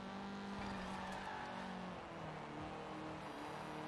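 A race car engine drones steadily in Forza Horizon 4, holding a sustained pitch that shifts slightly as the car is driven, quiet and without talk.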